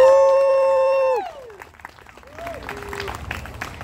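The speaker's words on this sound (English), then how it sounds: "please, round of applause for all our crossing guards" A sustained tone glides downward and fades, then a crowd at an outdoor community gathering breaks into moderate, scattered applause for the crossing guards, heard from a little distance.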